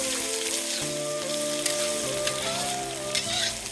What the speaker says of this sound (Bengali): তো ভাই এই যে মাংসের জন্য মশলা কষানো হচ্ছে।